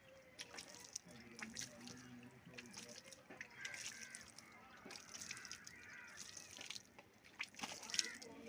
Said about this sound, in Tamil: 2 செடி நட்டு நம்ம செடிக்கு தண்ணி ஊற்றிக்கலாம்.